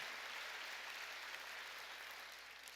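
A church congregation at a Korean service breaks into dense, sustained applause, a continuous hiss of many hands clapping that stays fairly soft and distant and fades slightly toward the end.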